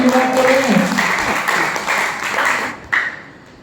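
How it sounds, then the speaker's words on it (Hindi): An audience claps in steady applause through a talk show or seminar segment about health checkups, loud and sustained and then tapering off, with voices mixed in near the start. "ताली तो बजाओ"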